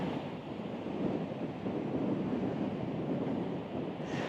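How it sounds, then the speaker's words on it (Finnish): Strong wind buffets the microphone along with the steady roar of big ocean surf on Rottnest Island, a continuous, loud broadband rush with no breaks and no talking. "Kova tuuli täällä. Sitten noin aallot tuolla, niin aivan hillittömät välillä, kun ne oikein nousee tuolta."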